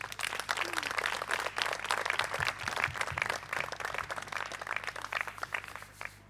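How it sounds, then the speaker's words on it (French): Audience applause at a mock-trial eloquence contest, sustained dense clapping from a sizable crowd in a hall, steady throughout and fading slightly at the end. "Je vous demande simplement de l'applaudir"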